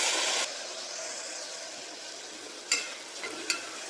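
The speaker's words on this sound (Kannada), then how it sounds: "ಪೇಸ್ಟ್ ಮಾಡಿ ಇಟ್ಕೊಂಡಿದ್ನಲ್ಲ ಅದನ್ನ ಹಾಕಿ ಫ್ರೈ ಮಾಡ್ಕೋಬೇಕು" Ginger-garlic paste and tomatoes fry in a pan for egg biryani, a continuous airy sizzle that softens after the first moment, with a few sharp utensil taps near the end.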